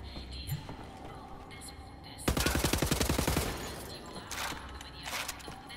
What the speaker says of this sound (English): Shoot with the assault rifle, not the sniper rifle.